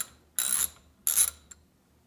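A socket ratchet loosening the nut on the air spring side of a bicycle suspension fork, two quick ratcheting bursts followed by a brief faint click, close and clear with no talk.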